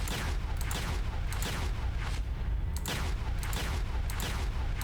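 A plasma cannon turret in the game From the Depths keeps firing in a rapid, uneven barrage of heavy cracks and booms over a constant low rumble, loud and unbroken.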